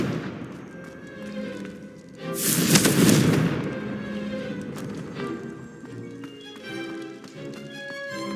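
A Confringo fire spell goes off in Hogwarts Legacy as a single loud crackling burst. Softer taps and game sounds come before and after it.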